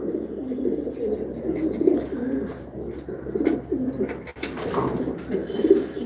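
Young racing pigeons coo continuously in a loft, with several birds making overlapping low, rolling coos at close range.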